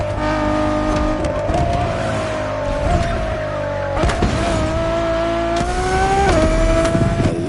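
A Ferrari sports car in a racing video game howls around a racetrack, engine note rising and dropping through gear shifts with loud sustained revving and brief tire squeal, close and continuous.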